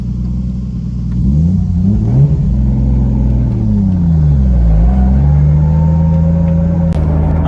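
Single-turbo 1JZ-swapped Lexus IS300 drift car revving up and down repeatedly, loud and close, with rising and falling engine pitch and a whining tone creeping in near the end, no talk.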